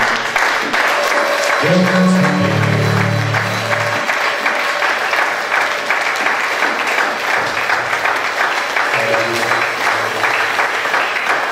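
A church congregation in Paris applauds and acclaims, a long continuous roar of clapping and crowd voices with low tones rising and fading beneath it.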